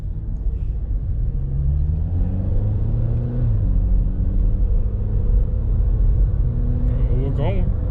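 A 2012 Honda Accord EX Coupe accelerates from inside the cabin, a steady low engine drone rising in pitch through the gears with constant rumble, while a person talks over it throughout.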